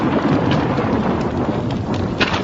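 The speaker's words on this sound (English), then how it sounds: "Oh, this damn storm kicks" A heavy thunderstorm roars with loud, constant rain and a deep rumble of thunder rolling underneath, close and enveloping with no talk.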